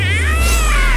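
A cartoon cat meows loudly and close, a single long wavering cry with a low hum underneath.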